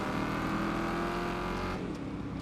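Race car engines roar in Wreckfest 2 at a standing start, a loud, sustained droning whine that holds steady, then tapers slightly near the end.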